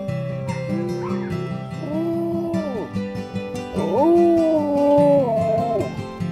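A wolfdog gives two drawn-out, rising-and-falling woo vocalizations, a howl-like crooning sound, with softer whines and huffs around them, close by.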